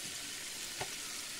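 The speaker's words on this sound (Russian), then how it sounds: "Ну, а перчик с луком продолжают обжариваться." Chopped onion and pepper fry in a pan for a creamy mushroom and vegetable soup, giving a steady, even sizzle with a faint stir or crackle partway through and no talking.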